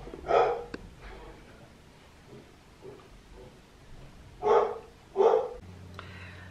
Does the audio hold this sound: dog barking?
yes